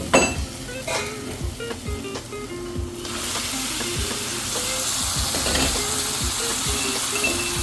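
Marinated chicken drops into hot masala for a chicken roast and sizzles steadily, with a spatula scraping and stirring in the pan; the frying grows louder and more constant partway through, close and continuous with no talk.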